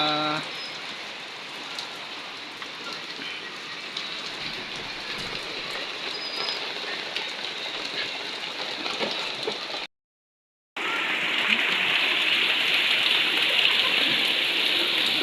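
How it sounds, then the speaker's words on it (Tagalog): Rain falling after a long drought, a steady dense hiss of drops pattering on surfaces that continues throughout, briefly cut to silence before resuming slightly louder. "Umulan na."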